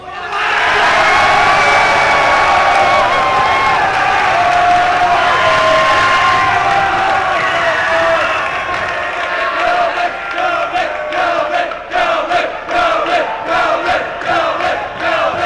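Talent show audience at the Army and Navy Academy giving loud, sustained cheering and applause that fades after several seconds into scattered claps and a few whoops.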